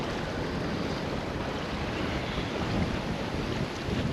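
Strong wind of 20 mph gusting to 34 roars across a reefed sailboat, with continuous buffeting and wave wash filling the air evenly, loud and close, no talking.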